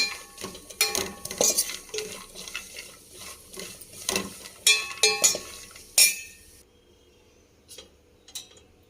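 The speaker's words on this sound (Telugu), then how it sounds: "ఇలా ఎర్రగా వేయించుకోవాలండి" Vermicelli (semiya) fried in ghee in a pan for kheer, stirred with a metal spoon that scrapes and clinks against the pan in irregular bursts over a light sizzle, quieting toward the end, no talk.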